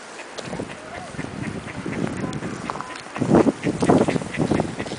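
Several geese honk and cackle nearby as they run off, bursts of harsh calls that grow louder and more frequent partway through, over outdoor background noise in Ternopil, Ukraine.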